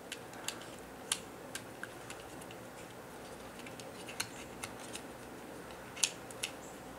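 Plastic parts of a 2018 Transformers Power of the Primes Sinnertwin toy being handled and folded, giving a run of small sharp clicks and ticks at an uneven pace, close and fairly quiet with nobody talking.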